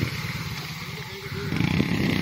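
A motorcycle loaded with sugarcane on a farm track in Pakistan rumbles nearby, its engine growling unevenly and swelling louder toward the end.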